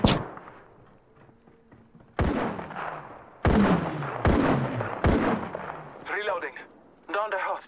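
Gunfire in Titanfall: Apex Legends, a run of loud, sharp shot bursts that follow a quieter stretch, trailed by chirpy game voice callouts.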